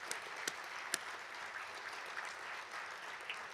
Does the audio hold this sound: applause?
yes